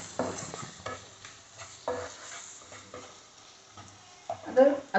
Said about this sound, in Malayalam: ഇനി നമുക്ക് ഇച്ചിരി ഗരം മസാല ഇട്ട് കൊടുക്കാം